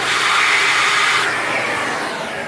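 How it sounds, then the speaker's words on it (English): Vacuum cleaner runs with a steady close whooshing roar as it sucks debris from a car's throttle body, easing slightly toward the end. "I'm just gonna suck this out,"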